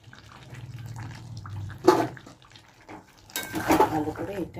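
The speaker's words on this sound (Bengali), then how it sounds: "এবার একটু গরম জল দিলাম" Hot water poured into a pan of potatoes and pointed gourd being cooked for potol rosha, with a sugar-sweetened base, giving two short bursts of splashing and sizzling around a low kitchen hum.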